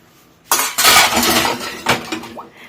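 Loud metallic clattering of pots and pans being handled in a kitchen sink, with clinks and bangs over a couple of seconds, close by.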